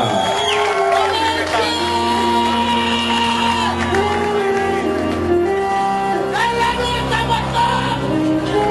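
A live crowd whooping and cheering as a singer is welcomed to the stage, loud and continuous, blended with the swelling intro of band music.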